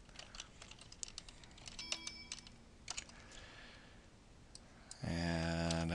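Fingers type a password on a computer keyboard, a quick burst of light, close key clicks in irregular clusters over quiet room tone, followed by a sudden steady electronic hum near the end.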